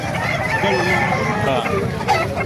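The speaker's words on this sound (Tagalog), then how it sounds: "Ganda ng mga manok dito." Roosters crowing among many fowl at a gamecock farm in Calumpit, Bulacan, loud and close with layered calls over a continuous backdrop of clucking birds and people talking nearby.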